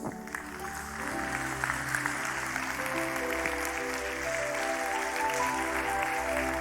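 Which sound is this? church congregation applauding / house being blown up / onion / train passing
church congregation applauding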